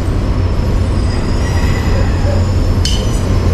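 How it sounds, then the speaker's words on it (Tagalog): Commuter train on the line toward Tutuban, passing near an elevated rail viaduct construction site, a loud steady rumble of wheels and cars with a brief sharp metallic squeal near the end. "Ayan naman yung train"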